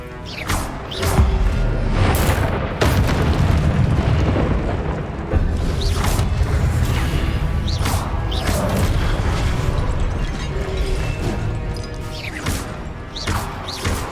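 Confringo spell explosions in Hogwarts Legacy, a rapid series of loud, booming blasts and crashes, some a few seconds apart, over a continuous rumbling low background of combat effects.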